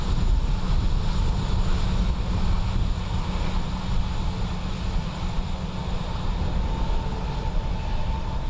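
A Ryanair airliner inbound from Palma at Dublin Airport on a windy day, heard as a steady, broad jet roar with wind rush that holds loud and even throughout.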